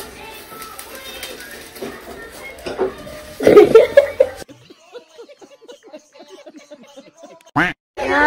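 Several rapid, raspy duck quacks stand out midway, with chatter and laughter around them, then a series of softer repeated calls continues.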